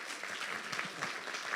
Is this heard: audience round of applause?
yes